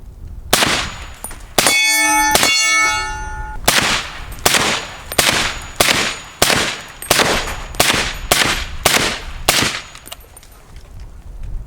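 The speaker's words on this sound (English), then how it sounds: "Just a suppressed AR-10." Suppressed AR-10 rifle, an SR25 clone, fires a fast string of about a dozen shots, each one a sharp crack and a loud ringing clang from steel targets, with one long metallic ring early on and no talk.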